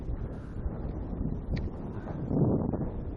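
Strong, gusty wind at a lake while spinning for perch in summer, a steady low rumbling roar buffeting the microphone throughout and swelling louder near the end, with no voices.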